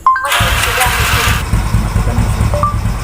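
Motorcycle engine started by voice command through an Android phone, catching after a short crank and settling into a steady, close idle putter, with a voice heard at the start.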